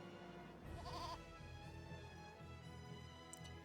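A goat bleats in the Eternal Sonata video game, one wavering nasal call rising out of a quiet game-music bed, fairly faint overall.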